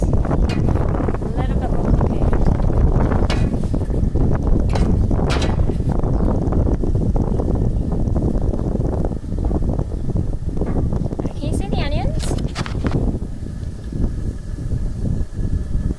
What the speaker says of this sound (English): It's just very windy today.